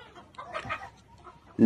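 Layer hens on a poultry farm cluck in a few soft, close calls, ending in a sudden louder squawk.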